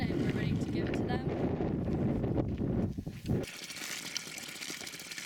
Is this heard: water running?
yes